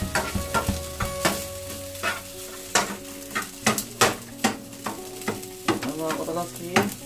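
Cup noodle fried rice is stirred in a pan, with rhythmic, repeated spatula scrapes and taps over a continuous close sizzle.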